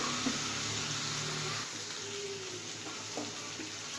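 Spices frying for daal mash, a gentle steady sizzle close up with a few light stirring touches, quiet and continuous with no talking.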